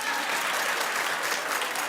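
A brief, even burst of clapping from a talk-show studio audience, close and fairly loud, sustained without pause for under two seconds.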